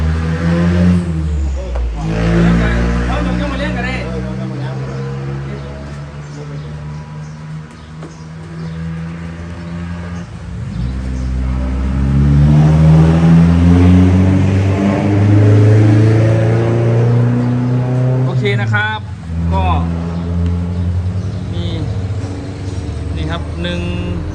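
An Isuzu engine, one of five being tried by a painter, starts and revs with a loud, steady rumble that swells and falls over the stretch, with people talking throughout.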